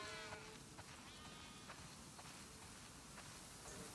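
Flock of sheep bleating in The Last of Us Part II during a farm herding scene, faint scattered bleats over a dense hiss with soft hoof steps, no talk.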